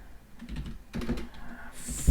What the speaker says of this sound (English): The way you do this is by typing